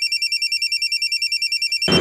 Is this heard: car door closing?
no